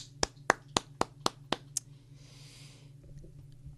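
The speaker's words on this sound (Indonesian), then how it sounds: "Yuk kita beri tepuk tangan untuk Tuhan kita yang layak disembah." Church congregation clapping during a worship service: about seven sharp, evenly spaced claps in a steady beat, fairly close, followed by a soft wash of noise and quiet room sound.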